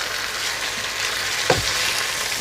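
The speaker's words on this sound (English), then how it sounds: "I'm just going to give it a mix around." Chicken pieces frying in a pot for biryani, giving a steady hiss and sizzle with one short scraping stir partway through.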